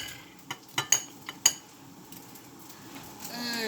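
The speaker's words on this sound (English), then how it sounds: "give that a good whisk" Egg yolk being whisked in a bowl while cooking masala keema: a few sharp utensil clinks against the bowl, then a soft, steady swishing stir that builds toward the end, fairly close and without talk.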